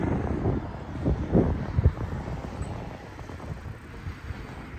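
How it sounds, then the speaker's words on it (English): Gusty wind on a street buffets the microphone with low rumbling blasts, strongest early on, then settling into a steadier outdoor rush. "I think I'm on a windy street"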